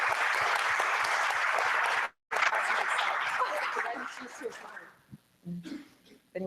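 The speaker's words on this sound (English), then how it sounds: "I'd just like to give a round of applause for these ladies" A small audience gives a round of applause to women who have just presented at a session, dense clapping that cuts off briefly, resumes and fades into a few scattered claps and murmurs.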